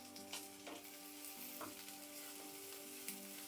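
Curry leaves drop into hot oil and crackle with a steady, close, fairly quiet sizzle, with small pops scattered throughout and no talking.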